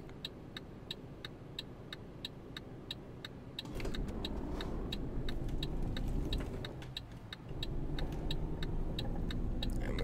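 A Volvo FH13 truck engine in Euro Truck Simulator 2 idles steadily, then swells louder as the rig pulls away, with a brief dip before the low drone picks up again, alongside a regular faint ticking.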